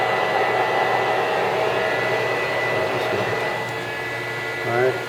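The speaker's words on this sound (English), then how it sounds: "So you can hear the hydraulic pump running." The hydraulic pump on a Vectrax 17 x 60 inverter-drive lathe runs with a steady, loud whirring drone that continues throughout and eases slightly near the end.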